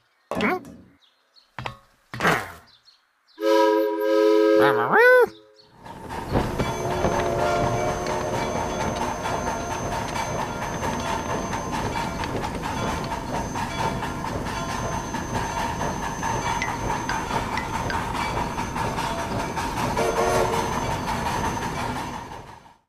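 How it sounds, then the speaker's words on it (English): A locomotive pulls a long string of train cars past, a steady rolling rumble with wheel clatter and a sustained horn-like tone, preceded by a few brief sharp sounds and a short tonal blast. "Big Blue's locomotive pulled 97 train cars."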